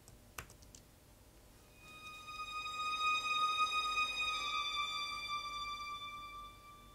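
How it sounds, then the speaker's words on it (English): High legato violins opening a string intro in Logic Pro, a sustained bright line swelling in after a faint click and holding steady for several seconds, soft and alone with no talking. "there's this high violins that sound like this"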